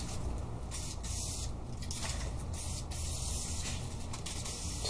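Penetrating oil sprayed from a can onto rusty, dry threaded hardware from a 1969 Chevy Camaro, a close, steady hiss in short bursts with brief pauses between them.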